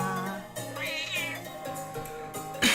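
An eight-year-old house cat meows close up with a long, wavering, drawn-out cry over a constant background hum, ending in a brief louder burst.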